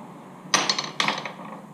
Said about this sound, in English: A couple cool little hammers.